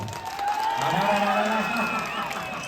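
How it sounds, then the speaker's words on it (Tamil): Men in the audience of a Tamil stage debate show clap and cheer in a brief, loud swell of applause mixed with whoops and shouted voices. "ஆண் சிங்கங்களை ஒரு தடவை கைதட்டி நம்மளுக்கு ஆதரவு கொடுக்க"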